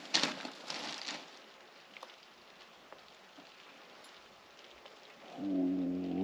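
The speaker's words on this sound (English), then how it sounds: "So it's light rain stopping in 3 minutes." Light rain falling outdoors, a faint steady hiss and patter with a few scattered drips, ending with a louder humming tonal sound coming in over it.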